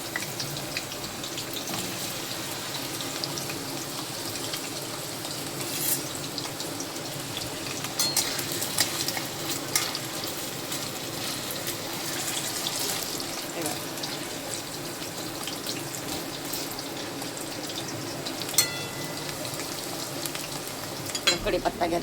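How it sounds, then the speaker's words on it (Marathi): Large potato pieces frying in hot oil in a home kitchen pan, a continuous close hissing sizzle that swells slightly midway, with occasional stirring clinks. "मी अगोदर फ्राय करून घेणार आहे बटाटे. पण पीस मोठे मोठे केले बटाट्याचे."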